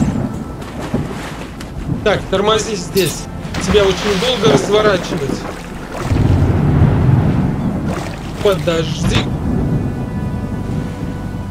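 Low rolling thunder rumbles through a stormy scene in the survival game Sunkenland, swelling in the middle and fading again, with wind and people talking over it.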